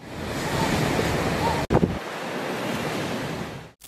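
Ocean waves surge and splash over seaside houses, a continuous loud roar of surf with heavy wind buffeting the microphone, briefly cutting out midway before the crashing water resumes.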